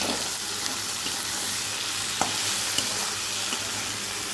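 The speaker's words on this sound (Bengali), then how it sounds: "এবার এটাকে আলুটাকে বেশ সুন্দর করে ফ্রাই করে নেব" Potatoes fry in oil with ground cumin and coriander while being stirred, making a steady, close sizzle marked by occasional soft clinks and scrapes of the stirring utensil.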